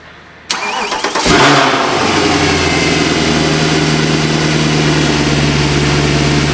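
A Mercedes C63 engine with 160,000 km cranks and catches after a short silence, then settles into a steady, loud idle close by with no talking.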